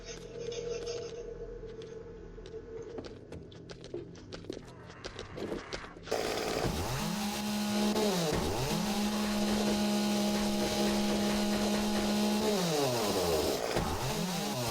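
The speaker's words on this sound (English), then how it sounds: "Probably gonna try and chainsaw it." A chainsaw in the video game 7 Days to Die starts up partway through and runs steadily with a buzzing drone that rises and falls, loud and close, after quieter scuffling game sounds.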